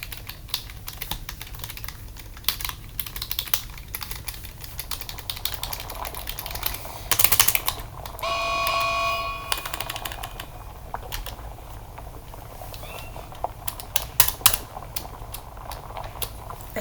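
Someone types on a computer keyboard that has a few faulty keys, giving irregular close clicks and clacks for the whole stretch, with busier bursts and a short rattling run midway, all without talk.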